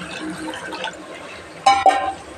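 Water is poured into a cooking pan while making biryani, heard as two short splashing bursts near the end after a quiet stretch.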